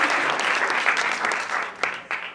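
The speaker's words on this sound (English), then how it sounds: "Let me hear them snaps and claps" Audience at a San Francisco talk applauds, a dense, fairly loud burst of many hands clapping for over two seconds, with a few sharper individual claps near the end.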